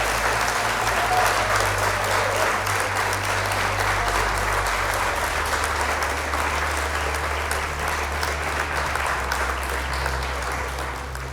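Sustained applause from a crowd of clappers fills the whole span, dense and even, loud and unbroken from start to finish with a low hum underneath and no speech on top.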